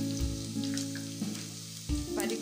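Garlic sizzling in hot oil with mustard seeds over a low gas flame, heard as a faint, close frying crackle over a steady low hum, with a few soft stirring bumps; no talking.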